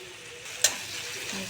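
Spices sizzle steadily in a pan with chilli powder and turmeric and softened tomato, and a single sharp utensil clack interrupts the hiss as the mixture is stirred.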